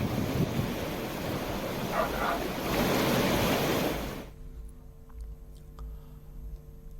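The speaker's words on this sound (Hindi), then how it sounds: "बारिश की वजह से नदी उफान पर है।" Swollen river in Uttarakhand, running high after rain, rushes with a loud, steady broadband roar that ends abruptly about two-thirds through, leaving only faint low background hum.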